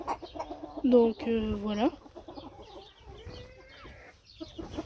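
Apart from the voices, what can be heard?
hens clucking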